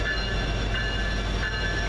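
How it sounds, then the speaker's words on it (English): A Florida East Coast SD70M diesel locomotive being switched around a rail yard in Harrisburg, producing a steady loud rumble with a high metallic wheel squeal running throughout, continuous and close with no talk. "this is a Florida East Coast SD70M being switched around."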